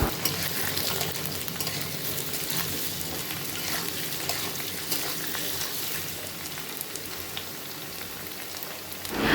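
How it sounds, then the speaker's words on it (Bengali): Gram-flour-coated stuffed pointed gourds fry in hot white oil in a wok, producing a loud, continuous crackling sizzle close by that holds steady throughout, with no talking. "এবার পুরের দিকটা বেসনে চুবিয়ে গরম তেলে লাল লাল করে ভেজে পটলগুলো নামিয়ে নেব।"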